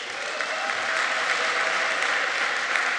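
Dense, steady applause from an awards-show audience in Atlanta, many hands clapping together in a continuous even wash that stays loud and full throughout, with no speech over it.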